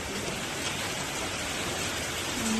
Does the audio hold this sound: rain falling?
yes